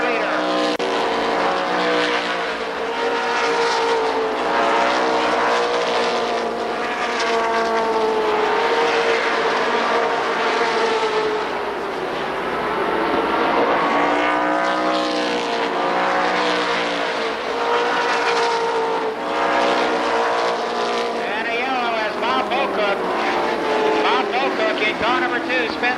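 Late model stock cars racing at Columbus Motor Speedway: a loud, continuous roar of engines with rising and falling pitch as cars pass, sustained throughout under an announcer's voice.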